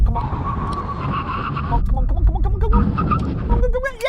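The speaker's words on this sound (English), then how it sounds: "When we reach the line, full emergency stop." A Toyota Supra without upgraded brakes roars at speed during a drag race and then makes a full emergency stop with a sustained tire skid, while a person talks excitedly over the noise.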